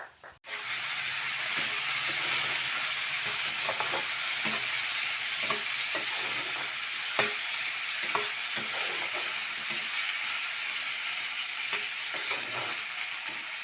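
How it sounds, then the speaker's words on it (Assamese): Cut potatoes and tomatoes fry with onions and panch phoron in a pan, giving a loud, steady sizzle with occasional stirring scrapes throughout. "আৰু এতিয়া এইফালে কাটি লোৱা আলু আৰু বিলাহী দি দিম"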